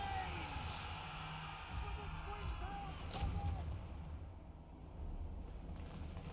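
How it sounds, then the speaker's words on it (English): Mortars firing in a Total War: Warhammer Immortal Empires battle, a few heavy booming blasts at intervals over continuous battlefield din and music, loud and fairly close. "Oh yeah, mortars."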